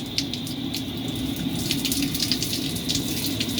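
Water runs steadily from a gas-heated outdoor shower rated at about 34 kilowatts, a continuous close hiss and splash with no pauses or voices.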